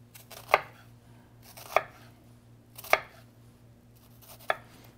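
Knife cutting strips into an onion on a cutting board, four sharp separate chops spaced about a second apart, close and clean against a quiet room with a faint steady hum.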